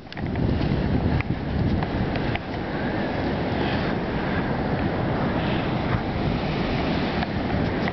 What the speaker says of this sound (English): Had to see the Pacific Ocean for myself.